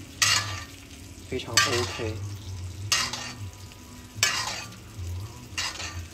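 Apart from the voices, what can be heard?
steak frying, basted with its butter juices in pan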